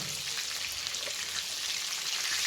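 Fish pieces frying in oil in a pan for fish curry produce a steady, bright crackling sizzle with scattered pops, close and continuous throughout.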